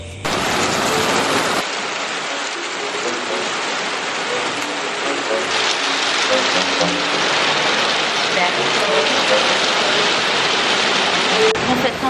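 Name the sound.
heavy rain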